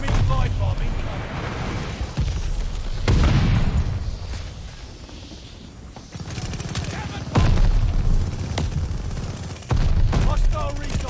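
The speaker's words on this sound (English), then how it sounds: "Enemy flight bomb incoming." Loud, dense bursts of booming explosions and gunfire in the Call of Duty Vanguard video game, heavy rumbling blasts that swell and recede over several seconds.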